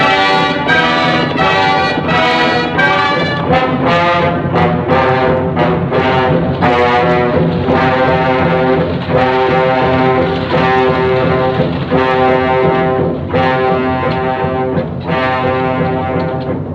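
Bugle sounding the gallop call in a western film, loud brassy notes repeated in quick rhythmic phrases that keep going for the whole stretch, with no speech over them.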